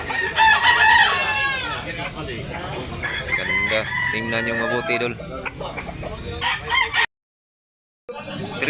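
A rooster crows repeatedly at a Cebu poultry sale while people talk loudly nearby, the crowing rising above a busy, chattering background with occasional clucks.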